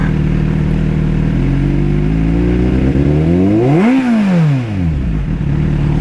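A Kawasaki Z800 motorcycle exhaust revs hard, the engine note climbing steeply to a peak and then dropping back, loud and close with steady wind noise and no talking.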